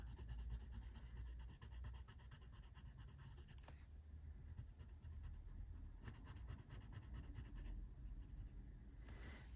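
Colored pencil shading on paper in a coloring book, a steady close scratchy rubbing of pencil strokes with brief pauses and no talking.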